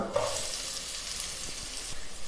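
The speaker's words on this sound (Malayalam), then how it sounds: "ഇഞ്ചിയുടെയും വെളുത്തുള്ളിയുടെയും പച്ചമണം ഒന്ന് മാറി വരുമ്പോൾ ഇതിലേക്ക് നമുക്ക് ഒരു മീഡിയം സൈസ് സവാള ചെറുതായിട്ട് അരിഞ്ഞത് ഇതിലേക്ക്" Chopped onion hits a pan of frying ginger and garlic, giving a brief close sizzle with light stirring scrapes, no voices.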